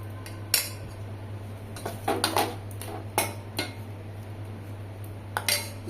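Hilsa fish coated in raw mustard oil going into a tiffin box, with several sharp metallic clinks of utensils scattered across a steady low hum, no one talking.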